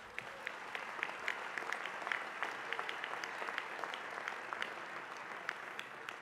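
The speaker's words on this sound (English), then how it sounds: "You're supposed to clap now." A large banquet audience at the 2016 Al Smith charity dinner applauds, with a dense, steady patter of many hands clapping at a moderate distance, continuous throughout with sharper individual claps standing out.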